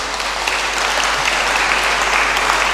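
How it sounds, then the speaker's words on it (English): Audience applause welcoming first-time visitors at a church service, steady and dense clapping from a sizeable crowd, sustained evenly throughout without pause. "Let's clap for them."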